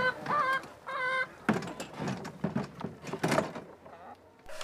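Chickens inside a coop bedded with fallen leaves, with a few clucks and squawks near the start followed by scattered scratching and rustling thuds, fairly quiet and close.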